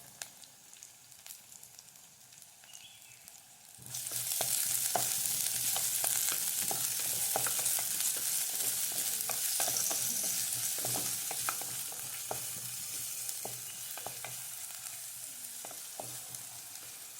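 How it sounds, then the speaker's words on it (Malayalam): Sliced onions hit hot coconut oil and burst into a loud, steady sizzle and crackle that continues alone, tapering only slightly toward the end, with no talking. "വെളിച്ചെണ്ണ നല്ലോണം ചൂടായിട്ടുണ്ട് അതിലേക്ക് നമുക്ക് ഈ സവാള ഇട്ട് കൊടുക്കട്ടോ"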